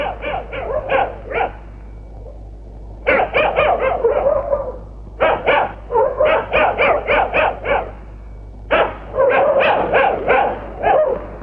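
A dog barks in rapid bursts of several loud, close barks, pausing between volleys, with no talk over it.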